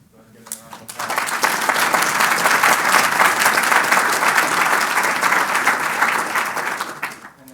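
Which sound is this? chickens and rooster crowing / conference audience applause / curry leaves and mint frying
conference audience applause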